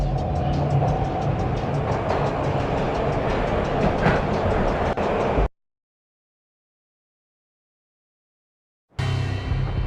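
Train riding on rails in the video game Max Payne: a loud, continuous rumble with a fast rhythmic clatter of wheels, cutting to total silence midway before the rumble resumes.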